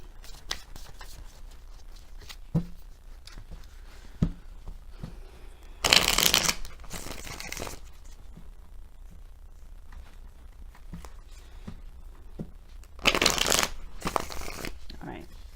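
Tarot cards are shuffled by hand in two distinct riffling bursts, close and crisp, separated by quieter handling sounds and stretches of talk.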